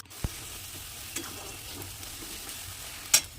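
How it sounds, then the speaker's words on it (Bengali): Bengali mutton kosha spice paste being stir-fried in a pan gives a quiet, steady sizzle, broken by a soft stirring knock near the start and a brief scrape just before the end. "এটাকে আবার সুন্দরভাবে মশলাটাকে ভালোভাবে কষিয়ে নেব।"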